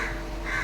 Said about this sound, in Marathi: कावळे कावकावायला लागले